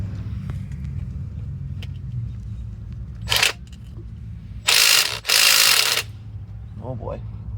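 Ratchet working the three 16 mm side bolts on the oil pan of a 2004 VW Jetta, heard as a couple of brief bursts of rapid clicking over a steady low garage rumble, with people talking nearby.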